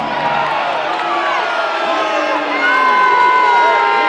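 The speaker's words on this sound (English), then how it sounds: "Crowd is not happy with this foul call." A basketball crowd at a Mill Rats versus Halifax Rainmen game reacts to a foul call with loud, sustained booing and shouting that swells toward the end, while voices carry over the din.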